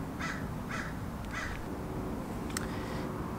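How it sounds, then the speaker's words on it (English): Outdoors, a crow caws three times in an even rhythm over a steady background hum, followed by a faint sharper call. "That bird."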